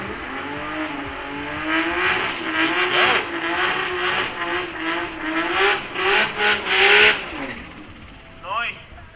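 A Toyota Supra drag racing at Midvaal Raceway, its engine revving loud and rising in pitch through repeated gear pulls, with a brief squeal near the end and a commentator talking over it.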